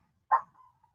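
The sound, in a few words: dogs barking at a delivery truck outside the house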